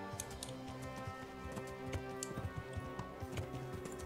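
Horse hooves clip-clop in the medieval role-playing game Kingdom Come: Deliverance, a steady run of close, regular hoofbeats over a busy game soundtrack with tonal music underneath.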